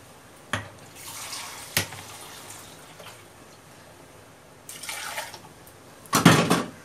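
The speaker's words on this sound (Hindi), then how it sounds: "अभी थोड़ा इसमें पानी डालेंगे और ये जूस उसके अंदर डालेंगे" Water is poured and splashed into a pan of crab curry masala in short bursts, with scattered drips and clinks between the louder pours, close by and without talk.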